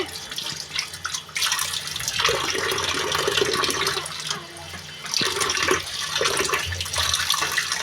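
Kitchen tap water gushes into a bowl to soak hilsa fish, a loud continuous splashing stream that drops briefly and then surges again.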